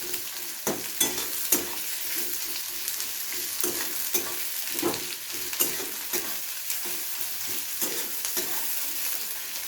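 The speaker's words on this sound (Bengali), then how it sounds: "পেঁয়াজটাকে লাল লাল করে একটু ভেজে নেব হালকা করে, যাতে পেঁয়াজের কাঁচা গন্ধটা চলে যায়।" Onions frying in a pan for a traditional Bengali sole fish and radish dish, a steady close sizzle broken by repeated rhythmic scrapes of a stirring spatula, with no voices.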